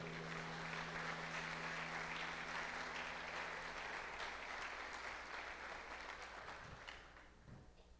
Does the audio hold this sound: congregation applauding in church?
yes